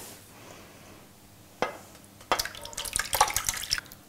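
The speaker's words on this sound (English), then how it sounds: "So we are going to pour this in." Apple and mint ice cream mixture is poured into a cake pan, starting with faint scattered drips and building into a steady, close liquid splashing in the last couple of seconds, with no talk.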